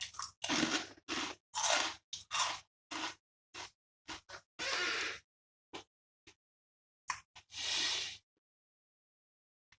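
Snaffling Pig pork crackling snacks are crunched up close in a string of sharp, dry bites and chews with short gaps between them, then a longer crunch near the end.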